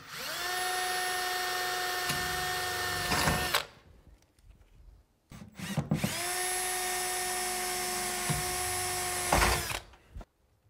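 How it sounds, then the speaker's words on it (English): Two long bursts of a high-pitched power drill whining steadily, drilling metal with a number 31 bit, each running about three seconds with a short pause between, loud and close. "when we're screwing metal to metal, we always use a number 31 drill bit."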